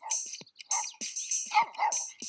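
A dog sound effect attached to a movable object barks several times in quick succession, loud and close, with sharp yapping bursts and no talking.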